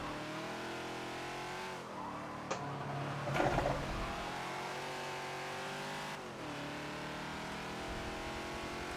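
Ford Falcon XB engine in Forza at Sebring, a steady loud drone with shifting pitch as it holds throttle through a corner, one sharp bump and a brief rise midway, running continuously with no talk.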